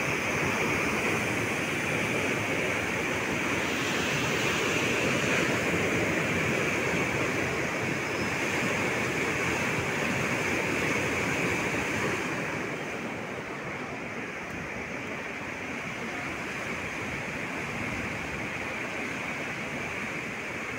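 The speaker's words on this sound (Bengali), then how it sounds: "পুরো ক্যানেল ভর্তি হয়ে জল যাচ্ছে।" Water released from the Durgapur dam surges through a completely full canal as a powerful, continuous roar, loud and steady throughout with no voices.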